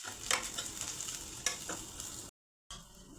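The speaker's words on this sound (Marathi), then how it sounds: "कांदा, खोबरं, लसूण, अद्रक फ्राय झालेले आहे।" Chopped onion, grated coconut, garlic and ginger frying in a pan, giving a steady sizzle with a few sharp stirring scrapes. The sound cuts to silence briefly near the end, then the sizzle picks up again.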